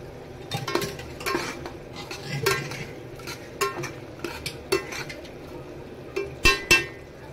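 Mutton and goat head tumble into a metal pot amid a series of clanks and scraping stirs, uneven knocks of a utensil against the pan.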